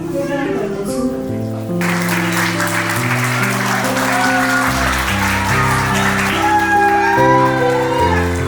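Guests at a Christian wedding in Nepal break into sustained clapping over background music, a dense, loud, even round of applause with a few cheers.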